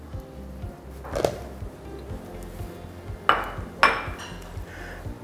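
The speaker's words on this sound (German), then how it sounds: "Die verrühre ich direkt zusammen mit dem Zucker." Butter and sugar stirred together in a mixing bowl for apple muffin batter, with a few sparse, sharp clinks of a utensil striking the bowl over a quiet kitchen background and no talking.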